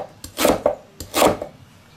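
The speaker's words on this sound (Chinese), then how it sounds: "下面这个萝卜切成块，白萝卜" A white radish being cut into large chunks on a board gives two close, loud strokes with a rough, scraping chop quality, each followed by a smaller knock.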